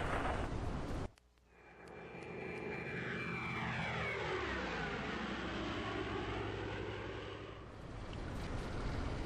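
Damaged fighter plane engine in the combat flight game IL-2 1946, a loud continuous droning roar whose pitch sweeps down and back up, with a brief cut near the start.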